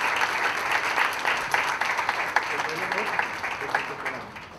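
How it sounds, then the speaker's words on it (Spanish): Applause at a Nicaraguan award ceremony, moderately loud clapping from the audience, with individual claps audible and a voice talking over it. "Un fuerte aplauso a este reconocimiento"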